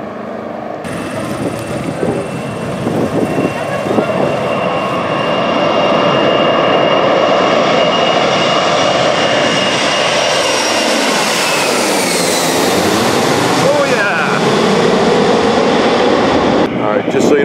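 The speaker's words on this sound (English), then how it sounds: "right now, we're gonna watch this plane taking off." A jet airliner roars up close during takeoff, its engine noise swelling to a loud, steady blast with a whining pitch shift as it passes.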